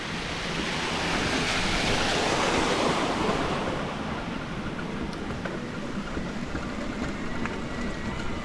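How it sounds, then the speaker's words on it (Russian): Small waterfalls by a road near Yalta in December, a steady rushing roar of falling water with wind buffeting the microphone, loudest early and then a little softer, with no voices. "А тут водопадики."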